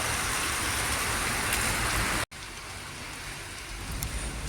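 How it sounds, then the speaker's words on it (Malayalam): Heavy rain pours in Kochi as a dense, loud, continuous hiss, briefly cut off midway and then continuing slightly softer, with no voices. "കൊച്ചിയിൽ ഭയങ്കര മഴയുണ്ട്"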